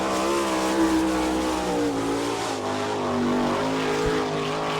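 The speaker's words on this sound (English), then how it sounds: "Casey Kane on the clocks right now in car number 23" Sprint car number 23 on a timed qualifying lap at Attica, Ohio in an All Star Circuit of Champions event, its engine a steady, droning roar with shifting pitch, heard from some distance with no talk.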